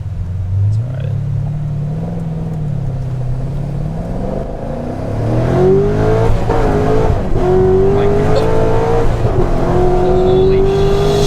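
A modified Corvette C6 Z06 on drag radials accelerates hard, its loud close engine note climbing steadily through the gears with a deep rumble and a harsh, rising rasp, heard from inside the car.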